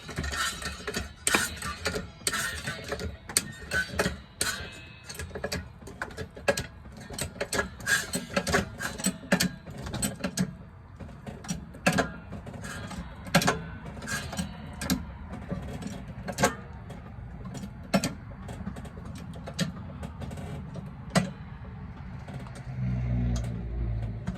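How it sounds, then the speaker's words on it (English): A scissor-style car jack being cranked without its handle to lift a car off the ground, giving a steady run of dense clicking, ratcheting mechanical ticks up close, with a low rumble building near the end. "you want to just start jacking it up off the ground"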